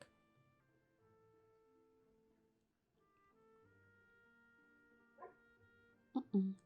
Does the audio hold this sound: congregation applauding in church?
no